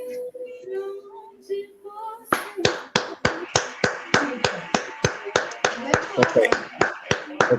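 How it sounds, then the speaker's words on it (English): Steady hand clapping from a few viewers during a live reaction to a song contest semifinal, a regular rhythm of sharp, close claps running for about five seconds after a brief spoken word. "I think this is the only one that's getting some applause tonight from us"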